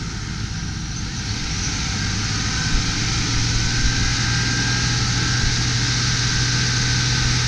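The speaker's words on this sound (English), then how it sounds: "The engine is nice and smooth." A supercharged 2000 Buick Park Avenue Ultra engine idles smoothly and steadily, a constant close-up hum with a faint high whine running over it.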